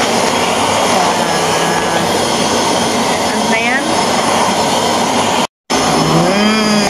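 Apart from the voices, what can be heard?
vacuum cleaner running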